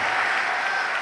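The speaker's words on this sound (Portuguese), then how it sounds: "Isso, aplaude e glorifica, aplaude e dá glória." A church congregation applauding, a dense continuous wash of many hands clapping together, loud and steady throughout the short moment.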